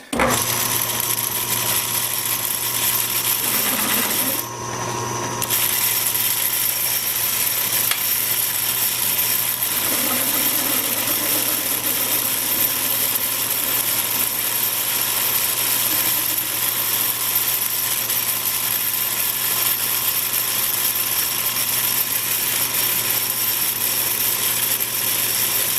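Steady whining machine drilling with a 3/8 bit held in a chuck mounted on a lathe carriage runs continuously at close range, with a brief dip in the motor noise partway through.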